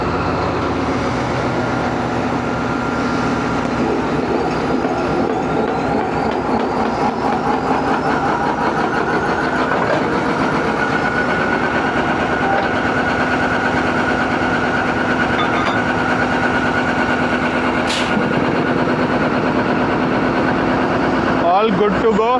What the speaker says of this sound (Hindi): ZCU20 6406 आ चुका है 9 अब अल्लामा इकबाल एक्सप्रेस के साथ अटैच होने के लिए